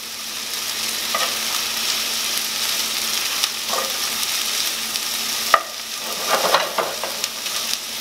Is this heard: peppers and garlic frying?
yes